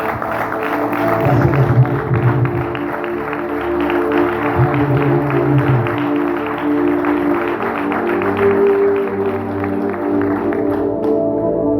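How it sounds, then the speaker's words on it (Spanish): A church congregation applauds with dense, continuous clapping that runs over sustained music with held tones, then tapers off near the end. "¿Cuánto le dan un fuerte aplauso a Dios sobre la tierra?"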